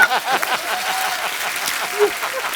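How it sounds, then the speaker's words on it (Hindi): A studio audience at a comedy show applauds steadily, with a dense patter of claps under scattered voices and light laughter throughout. "जोरदार तालियां"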